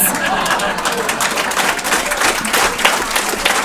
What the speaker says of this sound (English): That deserves a huge applause, yes.